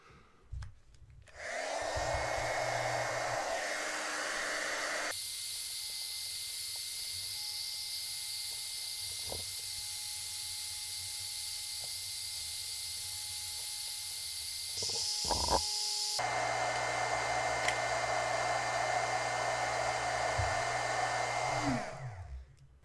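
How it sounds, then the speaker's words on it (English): A hot air tool blows steadily and loudly for about twenty seconds, heating the plastic shroud on the front end of a brushless motor in poor condition to soften it, with a brief clunk of handling near the end and no talking. "I'm gonna try and heat the crap out of the front end to try and soften up the plastic and release the motor from this case"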